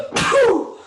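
A single sharp sneeze bursts out close by, a quick intake followed by one loud explosive release that fades within about half a second, with no talk.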